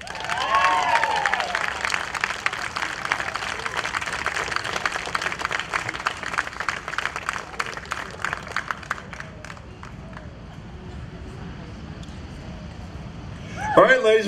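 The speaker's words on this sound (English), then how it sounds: "Please give a nice round of applause to Casey Levine" Audience at the Hastings Sings 2021 singing contest applauds the first-place winner: loud, sustained clapping with some cheering that gradually thins and fades, then a voice speaks at the very end.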